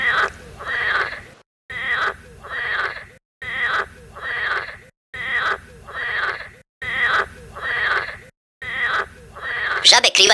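Frogs croak by a river in repeated bursts of raspy calls separated by short silences, loud and close. The pattern keeps a regular rhythm, and a brief noisy rustle comes at the end.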